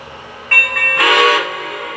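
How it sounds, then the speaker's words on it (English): A Lionel Legacy AT&SF 4-8-4 Northern model steam locomotive sounds its electronic bell, then a sustained steam whistle blast lasting about half a second, close and fairly loud, fading at the end. "The 2 bells and a whistle will confirm that you're now in sequence control mode."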